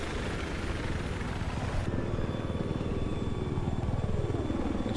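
A Battlefield 4 helicopter roars with a steady, loud rotor and engine drone, its dense rhythmic chop filling the whole stretch without pause.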